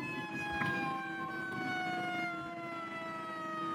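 Wailing fire engine siren in a Roblox fire roleplay game, a steady electronic tone sweeping slowly downward with harmonics, continuous and fairly close, with a faint vehicle rumble underneath.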